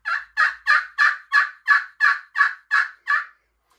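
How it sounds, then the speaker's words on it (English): A turkey yelp call: ten evenly spaced, loud, raspy notes in a steady rhythm, clear and close with silence between them and no talk. "The most common and the most important is the yelp, okay? This is what a yelp sounds like."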